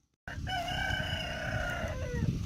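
A rooster crows loudly and close by at a farm henhouse, one long drawn-out call starting abruptly after a moment of silence, with faint clucking and farmyard noise beneath it.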